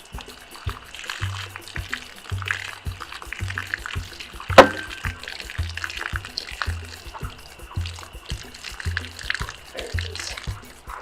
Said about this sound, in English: Gotta get all that warm, stale water out of the hose.